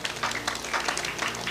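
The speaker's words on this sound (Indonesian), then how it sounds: "Tepuk tangan untuk Pak Joko Enggano." Audience applause for Pak Joko Enggano at a Javanese gathering, a steady wash of many hands clapping, moderately loud and continuous throughout.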